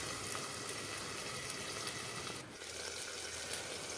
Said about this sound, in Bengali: আলুগুলো যাতে তাড়াতাড়ি ভাজা হয় সেই জন্য কিছুক্ষণের জন্য ঢাকা দিয়ে দিচ্ছি